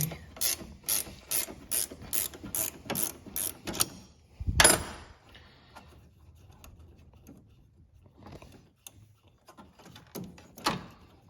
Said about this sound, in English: to get this bracket off, it's a 13 millimeter wrench.